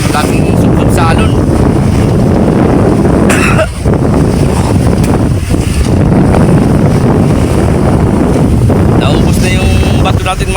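A fishing boat loaded at the bow plunges through waves in rough, windy seas, with a constant roar of wind and water. Sharp splashes and slaps rise above it, and a voice speaks in places underneath.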